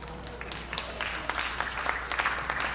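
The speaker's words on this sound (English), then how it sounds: "Go ahead, you can applaud." An audience applauds David Coffey, who plays Scrooge in an annual Christmas Carol, with soft, steady clapping at moderate distance.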